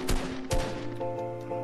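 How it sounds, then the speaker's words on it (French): Gunfire in the video game Fortnite: two sharp, loud shots about half a second apart, followed by a lingering hum from the game. "Ça tire là derrière, hein."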